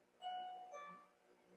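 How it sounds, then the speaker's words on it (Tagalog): A two-tone doorbell chime sounds once indoors, faint and somewhat distant, with the first tone held and the second fading out gradually; no talking. "nag-doorbell"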